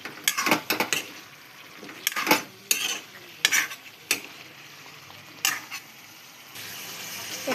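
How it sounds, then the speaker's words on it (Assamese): Potatoes fry in a pan as a spoon stirs them, giving a hissing sizzle punctuated by irregular scraping and clanking of metal on the pan, close and fairly loud, with no talking. "অলপ ভাজিব লাগিব, আলুখিনি সিজিব দিম।"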